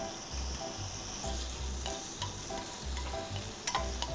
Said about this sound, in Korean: 저는 새우 준비했으니까 새우 넣어볼게요.